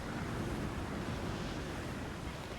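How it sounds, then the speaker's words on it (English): Wind and sea surf in the naval game Assassin's Creed IV Black Flag: a steady, loud, broadband rush of gusting air and breaking waves that holds evenly throughout, with no voices. "Look at that wind."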